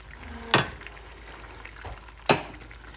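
Shrimp dropped into a Jamaican curry pot give two sharp sizzling bursts over a soft, steady frying hiss, close and without talking.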